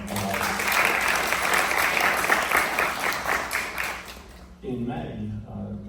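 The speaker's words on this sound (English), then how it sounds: "she deserves a round of applause for a very long time" Sustained crowd applause for a governor at a public announcement in New Jersey, steady and fairly loud for several seconds, then fading as a voice begins speaking.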